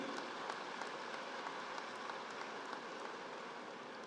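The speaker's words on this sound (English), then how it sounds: "Give a big round of applause for Honorable Chief Minister Shri Naveen Patnaik ji." Steady crowd applause fills a stadium in Bhubaneswar for the Chief Minister at a skill conclave, a dense, continuous clapping wash at moderate level with no voices over it.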